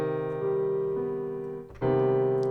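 A sustained minor major seventh chord rings out on a keyboard-like instrument, held steady and dissonant, then struck again just before the end, close and alone with no talk.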